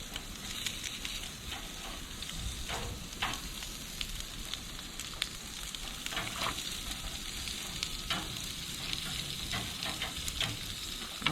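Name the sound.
lobster meat searing in a hot pan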